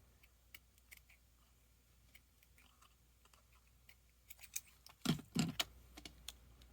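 Scissors trimming paper for a spring journal page: faint scattered snips and rustles, then two louder, close cuts near the end in a quiet room.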